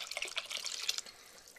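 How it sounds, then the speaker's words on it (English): Chicken broth and water pouring into a gumbo pot, a steady trickling, splashing liquid stream that runs for about a second before easing off. "what we're going to put in is a cup of chicken broth and a cup of water"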